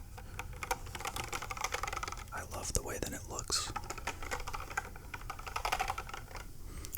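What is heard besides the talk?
typing on a 60% computer keyboard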